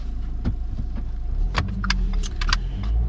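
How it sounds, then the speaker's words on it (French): Inside a car, a low engine rumble runs steadily underneath while keys jangle and small clicks and rattles come from the cabin. No one speaks. "Je suis en bagnole."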